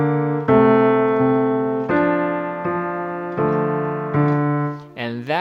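Piano playing part of a song slowly, a steady series of sustained notes and chords struck at even intervals, close and clear, with a short spoken voice at the end.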